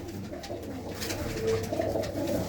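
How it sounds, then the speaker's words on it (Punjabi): Many pigeons, mostly hens of a pure racing strain kept by fanciers, coo softly together in a continuous low murmur at close range, with no voices. "ਇਹ ਕਬੂਤਰੀਆਂ ਹੀ ਆ ਸਾਰੀਆਂ"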